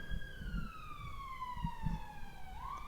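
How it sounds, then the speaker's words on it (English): A siren from a busy road wails in the distance, its pitch sliding slowly downward and then rising again, with faint low traffic rumble beneath. "If you do hear any sirens or anything, that's why."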